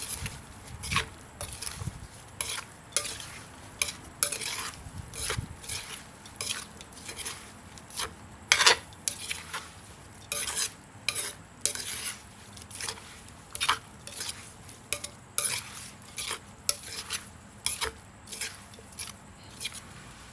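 Santol papaya salad with roasted small shrimp and peanuts being stirred and tossed, giving a steady run of close clinks, scrapes and wet mixing sounds from utensil against bowl, with no talking.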